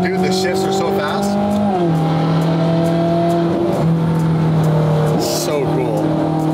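A Ferrari 458 GT3 widebody race car drives along with a loud, close engine note. Three quick gear changes each drop the revs before the engine climbs again, and voices talk over the continuous roar.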